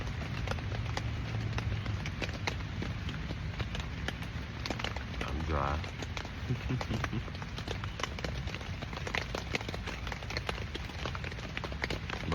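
Rain falls on a tent in a steady, dense patter of drops, moderate rather than torrential, heard from inside, with a person speaking quietly over it.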